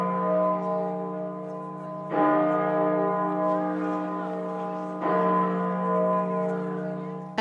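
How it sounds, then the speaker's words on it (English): Church bells toll at York Minster, struck slowly with two strong strokes about three seconds apart, each ringing out in a long rich hum that hangs in the air, with no voices over them. "At the Minster in York, the bells tolled 99 times, one for each year of the Duke's life."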